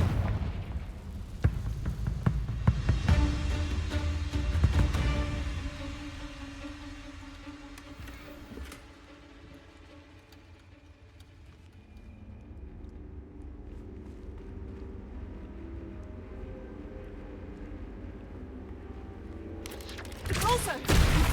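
Blasting spell explosions in the Hogwarts Legacy video game, with a burst of booming, crackling blasts early on, then fading into a quieter rumbling ambience before another sharp blast near the end, with voices in between.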